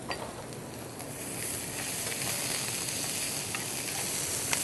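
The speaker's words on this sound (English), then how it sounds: "So I'm going to add a teaspoon of oil in my hot pan. Going to saute some onion, sweet onion, red onion" Onions sautéing in a teaspoon of oil in a hot pan give a steady, moderate sizzle and hiss with light crackles, growing slightly louder over time; no one speaks.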